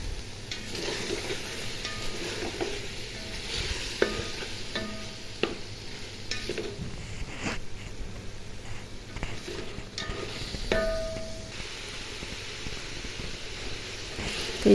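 Chicken and potatoes stir-fry in a pan while being cooked down for Bengali-style chicken biryani, giving a steady close sizzle with occasional scraping stirs and light metallic knocks of a utensil against the pot.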